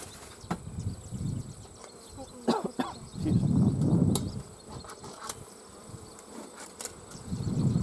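Honeybees buzz around beehives in August, swelling and fading hums as insects fly past close by, over quiet outdoor background with faint clicks and rustles.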